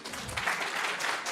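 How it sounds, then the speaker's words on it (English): Brief burst of audience clapping at an internet governance forum in South Africa, moderately loud and steady. "can you just clap for my expert?"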